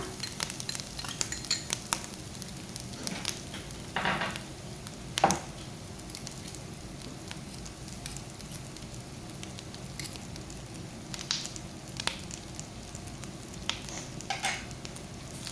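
Squid masala with grated coconut fries in a pan, a faint continuous sizzle broken by occasional scrapes and clinks of a spatula stirring the mixture.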